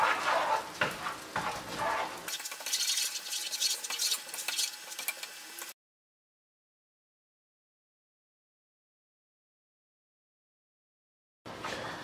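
A pot of Colombian sancocho trifásico with beef, chicken, pork, yuca and potato is stirred, with scraping and sizzling for about six seconds, then silence, and a brief return of cooking noise at the end.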